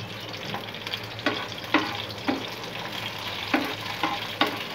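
Chopped garlic, green chilies and dried chilies sizzle in hot oil for a bagar tempering, a steady close frying hiss with periodic stirring clinks.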